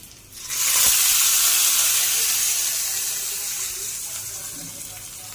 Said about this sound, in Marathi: एक एक मिरची आणि थोडेसे कढीपत्ता टाकून मी तडका देणार आहे